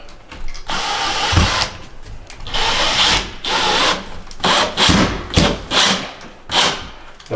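A power drill drives screws through sheetrock into a floor joist, several whirring bursts of a few seconds each with short pauses between, the later ones shorter and more rapid, close and fairly loud.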